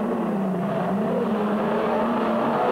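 A Division 2 rallycross car races in the 1999 European Rallycross round in Portugal, giving a loud, sustained engine drone that holds steady at close range for the whole stretch with no pauses.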